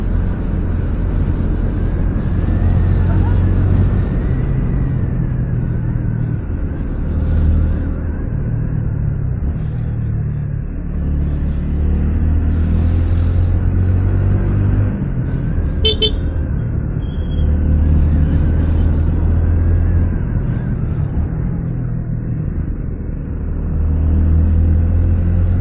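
Honda Beat scooter engine that has sat unused a long time, running with a steady low idling rumble throughout, loud and close, with faint hissy bursts above it.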